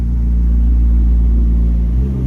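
A car engine rumbles low and steady close by, a continuous deep drone that swells slightly near the end.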